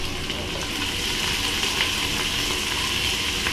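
Chopped onion fries in a pan for a vegan sausage and corn chowder, giving a steady, continuous sizzle at close range with no talking.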